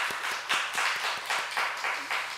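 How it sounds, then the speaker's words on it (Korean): Congregation clapping during a Sunday church service, a steady moderate patter of many hands at a middle distance with rhythmic pulses, no talk over it. "여러분 축하할 테니까 박수 한번 치시기 바랍니다."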